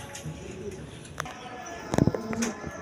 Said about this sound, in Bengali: এগুলো হাই ফ্লাইং গিরিবাস কবুতর।